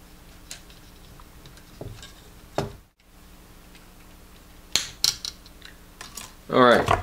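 Wire cutters snipping wires while building a 5 volt power distribution board: a few sharp, close clicks spaced out over a quiet background, with a brief louder rustle near the end.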